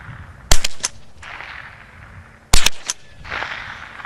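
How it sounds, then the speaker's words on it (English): Two sharp .22 rifle shots fired outdoors, about two seconds apart, each a loud crack followed by quick echoing tails against a quiet background. "And that's shooting a 22."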